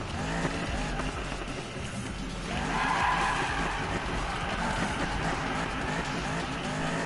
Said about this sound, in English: This is not a drifting car at all, by the way. This is my muscle car.